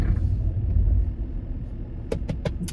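A Vauxhall Corsa rolling into a garage makes a steady low engine rumble close by, followed by a few light clicks and taps near the end.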